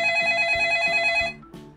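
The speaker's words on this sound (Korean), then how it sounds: "전화 왔다." An electronic telephone rings loudly and close in a repeating trilling pattern that cuts off partway through, followed by a short softer tone.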